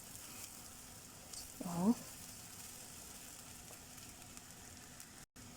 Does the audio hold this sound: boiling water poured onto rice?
yes